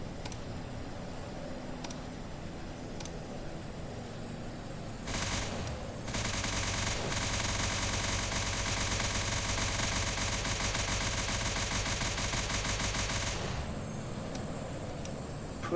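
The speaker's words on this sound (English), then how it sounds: "Putting out a lot of gunfire there." Machine gunfire in a Kerbal Space Program aerial combat match with BD Armory: a long, dense, continuous burst of rapid automatic fire roars for several seconds after a few scattered shots, then cuts off sharply.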